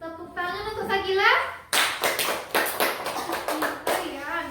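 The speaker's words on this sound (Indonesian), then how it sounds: "Tepuk tangan untuk Sakila." Children in a classroom break into loud, rapid, uneven applause for a few seconds after someone speaks.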